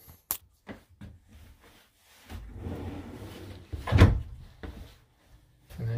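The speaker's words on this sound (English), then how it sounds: "there's a nice big drawer that's about 8 inches deep." A large, deep drawer in a van's wooden cabinet slides and bumps, with a sharp knock early on, a rubbing glide through the middle and a louder thud as it shuts, close and quiet.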